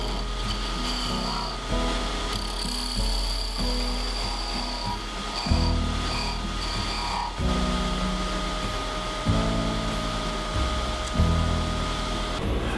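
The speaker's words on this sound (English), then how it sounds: "I'm going to turn the lathe speed back up to 2000." A wood lathe spins at 2000 rpm turning a wooden dowel for a segmented Christmas ornament, a steady close motor whine with rubbing, rasping tool contact that comes and goes in several bursts, with no one speaking.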